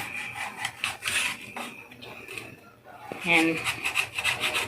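A knife slices a stuffed milkfish (rellenong bangus) in half before frying, giving short scraping, rasping cuts close by with a brief spoken word near the start.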